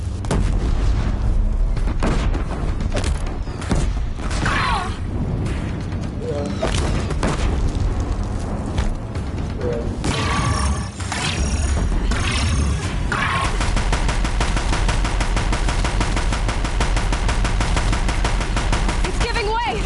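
Heavy gunfire and booming explosions pound away at a bridge in Horizon Zero Dawn, loud and continuous with repeated sharp blasts and crashing impacts over a dense battle din, voices faintly mixed in.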